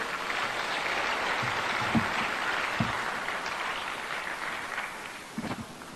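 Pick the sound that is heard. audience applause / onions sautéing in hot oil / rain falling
audience applause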